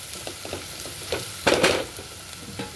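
Ground masala paste frying in oil for brinjal rice, a moderate sizzle punctuated by several stirring scrapes and a louder burst of spattering midway.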